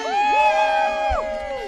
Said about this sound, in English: a round of applause again for Don